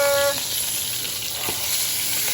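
Porterhouse steak with garlic butter sizzling steadily in a hot pan just after being flipped, a loud, continuous close crackle with no talk.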